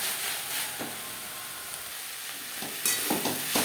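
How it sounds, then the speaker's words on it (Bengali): Pea shoot greens with peas are stir-fried in a pan, a steady close sizzle with a few scraping stirs toward the end. "মটরশুঁটি শাকের সাথে বেশ ভালো করে মিক্স করে দেবে"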